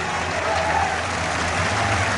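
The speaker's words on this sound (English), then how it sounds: "they're applauding the Norwich fans, and the City fans are showing their appreciation back" Football crowd at a Norwich City opening-day match applauding as the players walk out, a steady, dense wash of clapping and crowd noise filling the stadium without a break.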